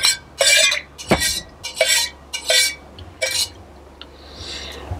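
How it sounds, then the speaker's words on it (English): Spoon stirring a freshly squeezed Sidecar cocktail in a glass, heard as a series of sharp clinks and scrapes at an irregular rhythm, close and moderately loud, with a brief louder knock partway through. "we give it a bit of a stir"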